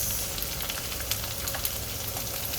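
Onions fry in a pan for mung bean soup, giving a soft, steady sizzle with small crackles and pops, quiet and close with no voices.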